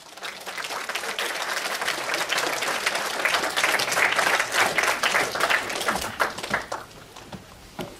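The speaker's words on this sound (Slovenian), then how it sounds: "Dajmo zaploskati." An audience at a cinema premiere for a music video at Cineplexx Celje bursts into applause, dense clapping that swells to a peak midway and then thins into scattered claps near the end.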